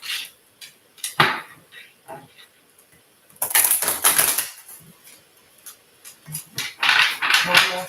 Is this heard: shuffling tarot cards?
yes